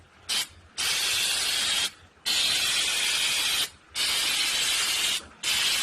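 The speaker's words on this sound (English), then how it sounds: "shoot it with some undercoating" Aerosol undercoating sprayed onto the bare rear floor of a Geo Tracker in four long close hissing bursts separated by brief pauses.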